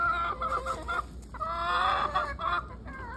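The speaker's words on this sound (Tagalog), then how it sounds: "May dalawang manok na nakawala." Two escaped backyard chickens cluck and call nearby in a series of short, uneven, nasal clucks with brief quieter gaps.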